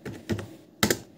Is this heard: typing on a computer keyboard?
yes